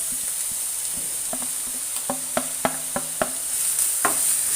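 Two small onions, finely chopped, sautéing in a hot pan, with a soft continuous sizzle broken by a run of light clicks and taps from a stirring spoon.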